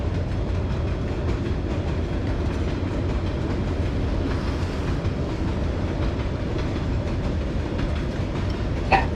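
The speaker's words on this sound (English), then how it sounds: "It's long train, isn't it?" A long train passing close by on tracks near a street food stall in Saigon, a steady loud rumble with rhythmic clattering wheels that continues unbroken throughout.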